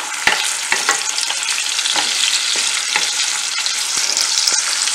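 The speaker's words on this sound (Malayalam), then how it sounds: "അപ്പൊ അതിലേക്ക് നമുക്കിനി തക്കാളി ഇട്ട് കൊടുക്കാം മിക്സ് ചെയ്യാം" Onions and tomato fry in a pan for a Kerala-style mussel roast, a steady close sizzle with repeated scraping clicks of a spoon stirring throughout.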